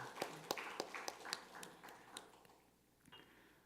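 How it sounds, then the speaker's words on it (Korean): Scattered claps from a church congregation at a Wednesday evening service, a handful of sharp hand strikes in the first two seconds that thin out and fade, heard faintly in a reverberant room. "우리 하나님께 영광의 박수 돌리겠습니다."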